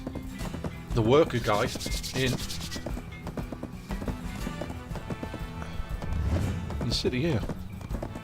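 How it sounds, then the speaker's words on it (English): A horse in Black Desert Online runs with a steady clip-clop of hooves, carrying on under a voice talking over it. "go on my little horse and gallop away"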